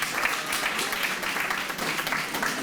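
Sustained applause from a seated audience at a youth bureau recognition ceremony, steady even clapping filling the whole stretch as names are read out, with no speech over it.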